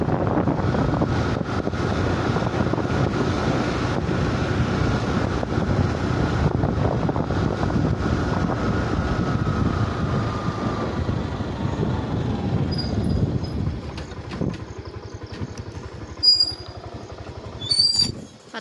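Motorboat engine drones at sea from aboard a fishing boat, a loud, steady rumble with wind buffeting the microphone, then cutting off near the end to leave quieter water and faint sounds.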